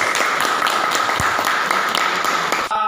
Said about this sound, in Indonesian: Mutia, tepuk tangan.